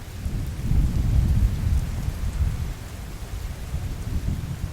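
A mountain thunderstorm with low rolling thunder rumbling over steady rain, loud and continuous without voices.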